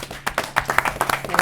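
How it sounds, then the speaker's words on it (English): Brief applause at a planning commission meeting honoring 20 years of service, a small group clapping at close range in an uneven rhythm. "We'd applaud 20 years of service"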